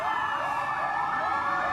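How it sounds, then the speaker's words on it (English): Emergency ambulance sirens wail through city streets in Karachi, a loud, steady rising-and-falling electronic tone repeating every half second or so, with a low rumble of traffic underneath and no voices. "The wail of sirens filled the streets."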